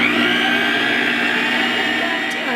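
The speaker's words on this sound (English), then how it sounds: "I'm going to be putting on my mixer again." An electric mixer whisks baking powder into dry ingredients for pineapple tea buns, a loud steady motor whine with a dense harmonic hum running unbroken from start to end.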